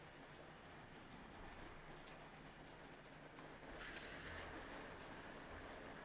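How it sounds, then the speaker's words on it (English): Heavy rain pours down outside, heard from indoors as a steady, dense hiss that swells louder for a moment midway through. No one speaks. "Well, it's really coming down."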